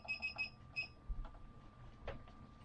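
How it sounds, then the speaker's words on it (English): A kitchen timer being set during all-grain home brewing of a saison: a quick run of sharp electronic beeps at the start, then faint button clicks in a quiet room. "And I'll set the timer for 5 minutes."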